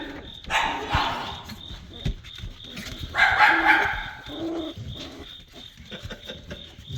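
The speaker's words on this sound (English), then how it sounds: "Which one's that growling in there?" Black-and-tan puppies in a dog box give up close growls, yips and small barks in uneven bursts, with light background noise between them.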